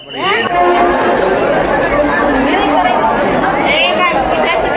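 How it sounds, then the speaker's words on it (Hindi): A huge crowd packed around a temple in Lakhisarai, Bihar, heard as a loud, continuous din of many overlapping voices and shouts close by, with no pauses. "भारी भीड़ थी, धीरे-धीरे सैकड़ों हजारों लोगों की भीड़ थी।"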